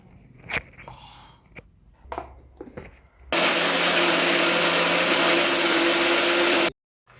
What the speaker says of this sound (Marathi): आता हा भाजलेला साबुदाणा आपण मिक्सरमधून थोडा थोडा ग्राइंड करून घेणार आहोत